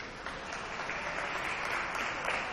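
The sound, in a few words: crowd applause for an injured basketball player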